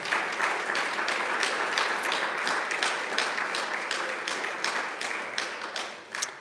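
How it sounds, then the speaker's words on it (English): A graduation audience at the South Dallas Driving Academy ceremony claps in sustained, lively applause with distinct individual hand claps, fading slightly toward the end. "Let's give another hand clap for our guys."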